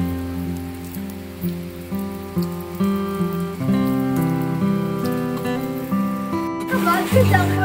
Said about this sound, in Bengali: প্রচুর জোরে বৃষ্টি পড়ছে, সকাল থেকেই আরম্ভ হয়েছে।